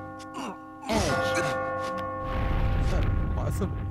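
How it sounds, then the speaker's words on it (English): A bell rings near the top of a tower in the video game Catherine, with a tolling tone over the game's music and sound effects, and someone talking over it. "As you near the top, you will hear a bell ringing."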